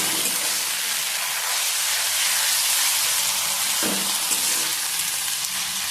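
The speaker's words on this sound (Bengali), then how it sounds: "দিয়ে দিচ্ছি রসুন বাটা, দিয়ে দিচ্ছি ভালো করে ভেজে নেব" Garlic and ginger paste frying in hot oil with browned onions, a steady loud sizzle throughout, with a brief stirring scrape near the end.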